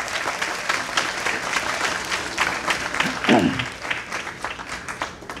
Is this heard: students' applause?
yes